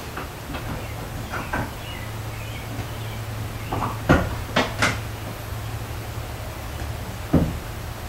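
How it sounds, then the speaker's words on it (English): A door opening inside an old mill, picked up by a recorder on the left: a few knocks and creaks at moderate distance over a steady low hum, with one sharper clunk near the middle and a softer one near the end. "Then it sounds like they actually come down the stairs and the door opens."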